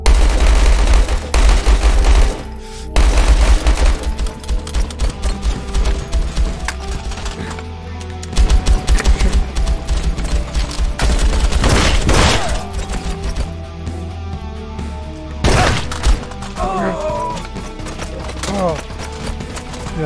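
Rapid bursts of gunfire crack through a hectic Hard Bullet VR game session, dense repeated shots and impacts over several seconds, loud and close, with people talking and shouting over the action.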